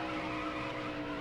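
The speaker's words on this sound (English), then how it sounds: "Hear those tires chirping." Race car tires squeal continuously under a steady engine drone, a brief high-pitched chirping skid through a turn in the racing game NASCAR Heat Evolution.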